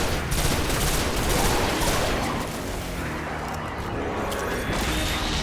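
Dense, sustained gunfire from the sci-fi shooter game Destiny, a loud continuous barrage of rapid shots with crashing impacts that stays steady throughout with no pauses.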